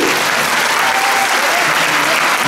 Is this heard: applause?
yes